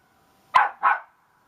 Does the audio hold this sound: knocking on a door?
no